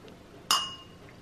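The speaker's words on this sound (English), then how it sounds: "Cheers. Bloody hell, nearly broke the glass." A single bright clink of two wine glasses tapped together in a toast, sharp and close, with a short ringing decay and no talk.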